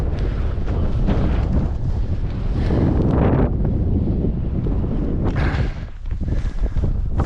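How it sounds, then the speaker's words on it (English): Strong wind buffeting a microphone on a rocky summit on Carl Side in the Lake District, a loud continuous roar with gusty surges and brief lulls. "Again, it's going to get windy, sorry."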